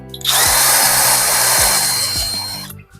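STR ST717 impact drill spinning unloaded in second gear at about 2,000 rpm, a loud, steady high whine that runs nearly three seconds before winding down, with no talking.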